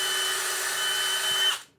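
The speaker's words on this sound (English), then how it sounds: "I'm talking over the drill." A power drill runs steadily at high speed while a wooden arrow is fitted with a screw-on TopHat pile, a loud continuous whine that holds its pitch and then cuts off and winds down at the end.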